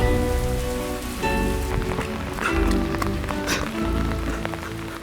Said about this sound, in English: And then it started to pour.